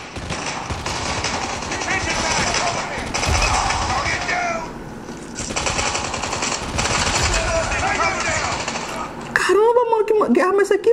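Rapid automatic gunfire from the mobile shooter game Call of Duty Mobile, played on a Xiaomi Mi 9 Lite, with bursts of machine-gun fire running nearly throughout, a short lull midway, and a louder sharp final flurry; someone talks over it.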